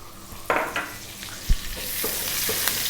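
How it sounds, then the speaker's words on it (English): Cumin seeds and fresh curry leaves dropped into hot oil crackle into a bright, steady sizzle that grows and fills the pan, with a few soft knocks of stirring close by. "I'm dropping in a couple of teaspoons of cumin seeds and the fresh curry leaves if you can get them."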